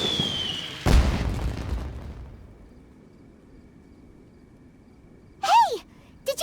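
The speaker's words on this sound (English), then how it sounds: "Did you hear that explosion? Maybe it was fireworks." A single sudden explosion booms once inside the Genshin Impact video game during a fireworks event, a sharp burst that decays over about a second, followed by quiet and a few high chirping game tones.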